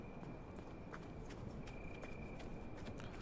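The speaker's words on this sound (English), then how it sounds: "We'll ride the horse over there too." Horse hooves clip-clopping in the survival video game HumanitZ, a steady run of light hoof taps over a constant loud rumbling background, continuous throughout with no talk.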